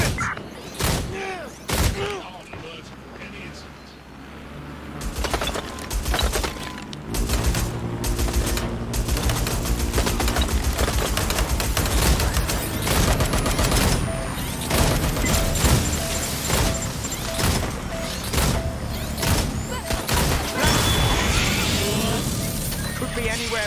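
Rapid automatic gunfire and scattered explosions rattle through a firefight in Watch Dogs: Legion, loud and nearly continuous with dense bursts, while voices call out over the shooting.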